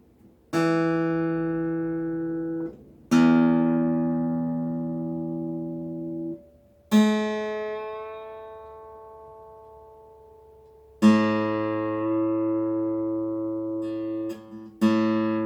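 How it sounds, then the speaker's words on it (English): Single strings of a 12-string guitar are plucked one at a time while tuning to an electronic tuner, left to ring out, five or six notes with long decays, close and clear. "going through them all and tuning them to an electronic tuner"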